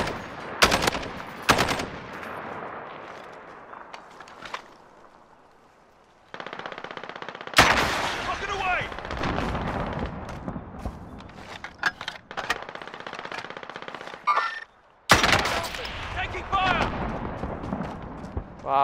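Gunfire in Call of Duty: Warzone, with bursts of automatic fire and sharp single sniper cracks in loud clusters separated by quieter stretches, plus a brief voice in the mix.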